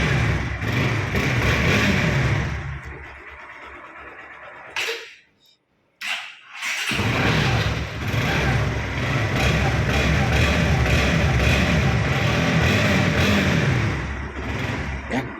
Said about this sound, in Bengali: ইঞ্জিনের সাউন্ডটা খুব সুন্দর